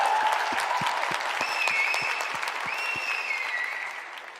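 A crowd of fans at a live Dota 2 esports match between Secret and Tundra breaks into steady, loud applause and cheering that holds for several seconds before tapering slightly, with no talking over it.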